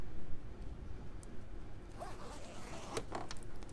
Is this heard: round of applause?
no